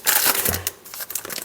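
Cake mix packet having its top cut off, a brief close crinkling and tearing rustle of the plastic bag, loud for about a second and then fading into lighter rustles.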